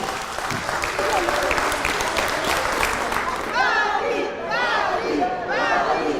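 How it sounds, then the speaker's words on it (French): Applause from a youth gathering audience, dense clapping mixed with cheering and shouting voices, sustained throughout with lively crowd chatter rising in the second half. "je vous demande vraiment de vous applaudir les uns et les autres"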